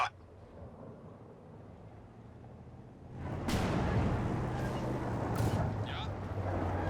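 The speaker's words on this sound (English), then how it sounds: "Here comes the Katyusha." Katyusha rocket artillery barrage in Company of Heroes 2 erupts after about three seconds of quiet battlefield ambience, a sustained loud roar with several sharp whooshing launches streaking through it, while a voice speaks over the top.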